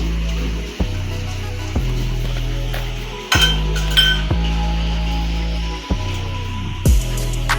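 Baby corn being mixed with salt and ginger-garlic paste in a bowl, with repeated spoon clinks and scrapes against the bowl at a steady pace over a constant low hum.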